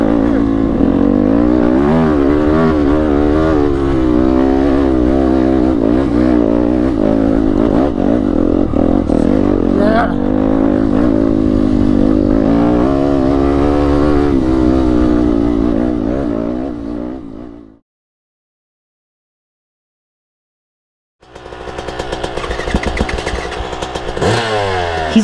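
A motocross dirt bike engine revs hard on a mountain trail, buzzing and rising in pitch through repeated throttle bursts, then cutting out to silence before roaring back up near the microphone.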